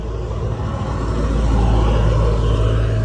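Steady low rumble of a lowered car with pop-up headlights and an aftermarket exhaust, a deep constant drone that swells slightly partway through, heard close with no voices.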